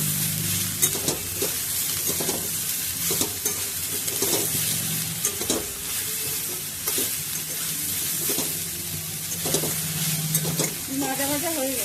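Soybean chunks fry in a pan with a loud, continuous sizzle. Repeated stirring scrapes and clatters keep a loose rhythm close up.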